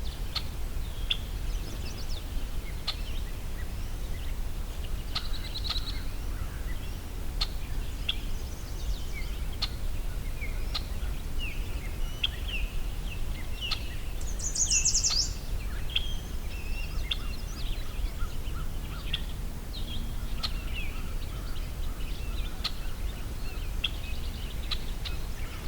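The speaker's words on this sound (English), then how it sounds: "A lot of red-winged blackbirds here." Red-winged blackbirds call across Buzzard Swamp, scattered chirps and trills drifting from a distance over a constant low hiss of ambient background, with one brighter burst standing out midway.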